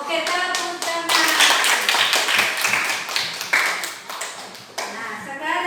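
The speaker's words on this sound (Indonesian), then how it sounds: "Oke, tepuk tangan." A classroom of children claps hands together in a dense, lively burst of many overlapping claps that swells and then tapers, with some voices mixed in.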